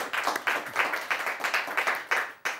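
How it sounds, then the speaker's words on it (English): Studio audience applause, a fairly faint patter of individual claps in uneven bursts, heard alone without speech. "Big applause."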